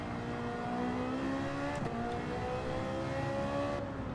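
A Ferrari race car engine in Gran Turismo 7 holds a steady, loud high-revving drone with a brief gear-shift dip midway, then carries on at full pace without talk.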